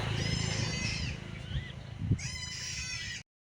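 A newborn goat kid, only a day old, gives two drawn-out, wavering bleats close by, separated by a short pause with some low rustling and background noise.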